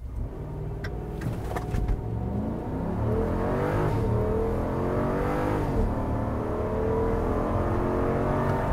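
A 2022 Jeep Grand Wagoneer with a 6.4 liter V8 accelerates hard from a standstill without launch control, the engine roaring loudly and climbing steadily through the gears, heard from inside.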